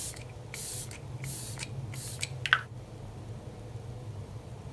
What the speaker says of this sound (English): I'm just gonna use a little bit of glow mist here.